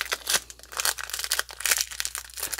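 Foil packs of 2022 Topps Series 1 baseball cards from a blaster box are torn open by hand, giving close, continuous crinkling and ripping with sharp bursts throughout, and no talking.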